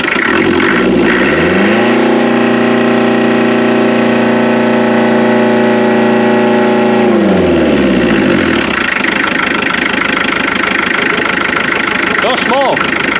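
A 2.5-litre naturally aspirated diesel engine running loud and close, its clattery note rising as it revs, holding high for several seconds, then dropping back to a rough idle.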